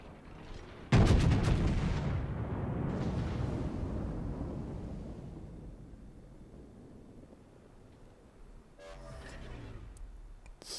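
A battleship's main guns fire in World of Warships as a sudden loud broadband blast about a second in, followed by a long rumbling decay that fades over several seconds.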